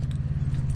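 Keys jangle in short bursts at a truck stop while a propane truck's engine idles loudly underneath, the rattling faint and brief against the steady low rumble.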